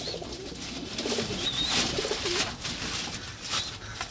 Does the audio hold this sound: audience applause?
no